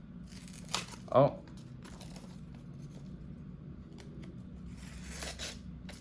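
A Civivi Elementum knife with a hollow grind slices through a piece of paper, giving one brief, crisp swipe near the start, with a short voiced exclamation and soft room noise around it.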